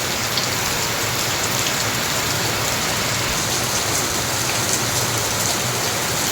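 Heavy rain pours steadily in Malaysia, a dense, loud, unbroken hiss of drops hammering surfaces with no gaps.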